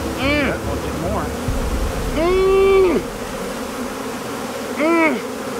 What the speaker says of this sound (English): I didn't realize we were getting swarmed by bees this morning.